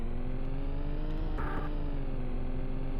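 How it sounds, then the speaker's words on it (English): A car engine in the Need for Speed video game holds a steady, buzzing drone as if revving at high pitch, constant and fairly loud with a brief tonal blip midway and no talk. "all the different cars have different engine sounds"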